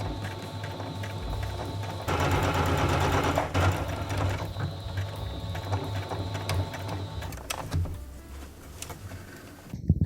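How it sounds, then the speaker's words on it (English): A domestic sewing machine runs in steady bursts while stitching elastic into a homemade skirt, a close, continuous mechanical whir with a louder stretch in the middle and brief pauses and clicks near the end. "I just stitched the hell out of that elastic because I really do not want it to snap."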